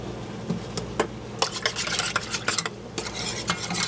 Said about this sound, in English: Just want to keep stirring it, making sure that that cinnamon breaks up nice and fine.